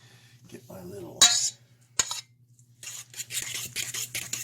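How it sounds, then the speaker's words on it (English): A fork clinks and scrapes against a bowl while mixing eggs, pumpkin and spice mix for pumpkin pie, in short sharp taps and a quick run of stirring strokes, close and fairly quiet. "Now you mix this all up. So it's the eggs, the pumpkin, and the spice mix."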